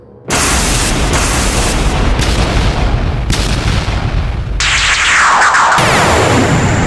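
A small explosion effect for a spear striking the space around a king in a fantasy audio drama: a sudden loud broadband blast that sustains as a heavy rumbling roar, with a brighter hissing burst near the end.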